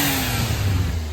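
A Suzuki Alto Works HA22S engine with a newly fitted intake and blow-off valve revs once, loud and close, and its tone climbs before cutting off abruptly.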